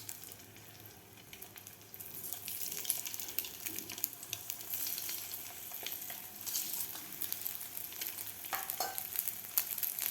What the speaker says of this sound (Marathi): आता आपल्याला अंडे फ्राय करून घ्यायचे आहेत